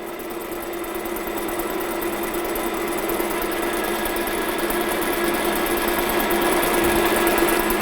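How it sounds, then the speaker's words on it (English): A metal lathe turns and machines a workpiece in a fitting and turning workshop, giving a steady, continuous mechanical hum with a sustained tone, loud and close, running evenly without talk. "I'm going to keep on machining till I'm just past center."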